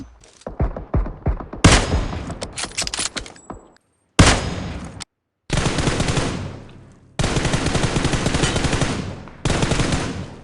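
Rapid automatic gunfire from the mobile battle-royale game PUBG Mobile, with loud bursts of repeated shots separated by brief silent gaps; no speech.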